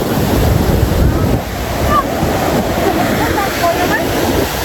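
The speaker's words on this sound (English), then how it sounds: "Waterfall there behind me." A waterfall near a Viking village in Norway roars as a steady broadband wash of rushing water, with wind buffeting the microphone throughout.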